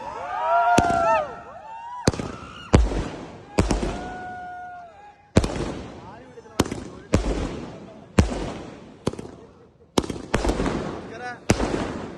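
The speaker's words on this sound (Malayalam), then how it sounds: "നമ്മുടെ പരുത്തൂർ ഹൈസ്കൂളിലാണ് നല്ലൊരു വെടിക്കെട്ട് നടത്തി" Fireworks go off at a high school during a panchayat fair, with a rapid series of sharp, loud bangs and crackling bursts, some trailing whistles, spread across the clip while people talk in the background.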